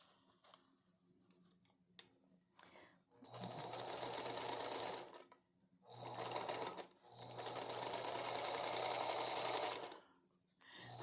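A sewing machine stitches quilt fabric in two long, loud runs, with short pauses and a few clicks between them. Speech is faint or absent.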